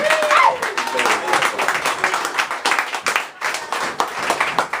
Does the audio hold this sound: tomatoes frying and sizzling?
no